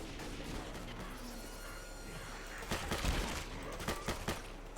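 Gunfire in the zombie shooter Left 4 Dead 2 on the custom map Back to School, as a dense, fairly distant fusillade with a cluster of sharper shots in the last two seconds.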